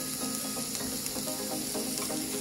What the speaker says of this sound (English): scoop that into your saute pan